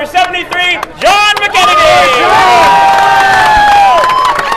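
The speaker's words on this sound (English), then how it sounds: "Big round of applause for car number 73, John" A crowd at a speedway cheers for the winning race car driver, loud shouts and whoops rising suddenly after a brief pause and holding strong, with excited voices and children shouting over the din.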